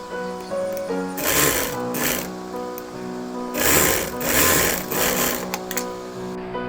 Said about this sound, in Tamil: இதை உள்ளுக்கு அப்படியே தைச்சிடணும், மடித்து தைச்சிடணும்.